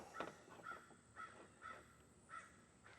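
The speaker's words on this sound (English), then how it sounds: "Shut up, bird." A crow caws outdoors, faint and distant, repeating about six short harsh caws at an even pace over a quiet background.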